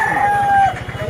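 A turkey at a Birnagar market calls out in a single loud, drawn-out gobbling cry lasting about a second. A low, steady rumble from the busy market runs underneath it.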